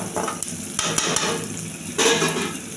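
Onions sauté in a pan with chana dal while being stirred, giving a close, steady sizzle broken by metal scraping and clanks from the spoon, with louder surges of frying noise where the mixture is turned.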